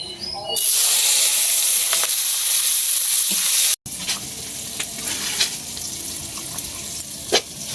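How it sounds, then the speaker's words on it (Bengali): Onions and green chilies sizzle loudly as they fry in hot oil, a dense steady hiss with occasional stirring scrapes, briefly cut off midway before resuming at a slightly lower level. "পেঁয়াজ কাঁচামরিচ সম্বাসে দিতেছি"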